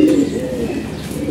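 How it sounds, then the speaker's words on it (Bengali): Low, rolling coos from a pigeon, close and fairly loud, carrying on continuously with nothing else competing. "এই যে কবুতরটা"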